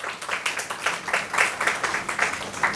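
Audience applause at a book launch event, a steady wash of many hands clapping with repeated bursts, moderately loud and continuous throughout, with no voices over it.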